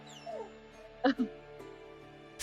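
A soundboard plays a dog effect: a couple of sharp yips and barks close together, loud over a steady background hum.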